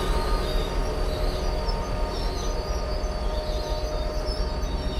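A Slovenian Class 713 electric multiple unit rolls into a busy station on the adjacent track from Kočevje, a steady broadband rumble of wheels and motors with a faint whine, holding even and fairly loud throughout.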